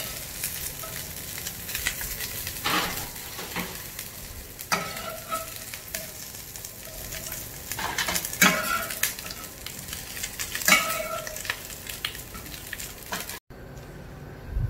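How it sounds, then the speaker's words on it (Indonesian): Noodles being stir-fried in a pan give a steady, close sizzle broken by scraping stir strokes and occasional utensil clinks, with no talking, until the sound cuts off just before the end. "Sekarang kita akan tumis mie kuahnya tadi ya"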